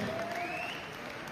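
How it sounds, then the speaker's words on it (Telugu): Audience clapping at a live speech event in a hall, a steady continuous wash of applause lasting the whole moment at moderate, even loudness with no voices over it. "మీ బిగ్ క్లాప్స్ తో ప్రోగ్రామ్ ని ముందుకు తీసుకెళ్దాం"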